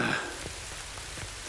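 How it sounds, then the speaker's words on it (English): Steady rain hisses across the surface with a few scattered drop impacts, continuous and moderate, in the video game Tom Clancy's The Division 2. "just want to get out of this fucking rain"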